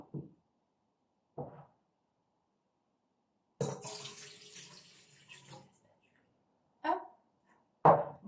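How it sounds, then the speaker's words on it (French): Lukewarm water and milk poured into a bowl while preparing a dough, a soft liquid stream lasting about two seconds, framed by brief quiet knocks and rustles from kitchen handling. "on va venir mettre de l'eau tiède, 180 grammes, avec le lait"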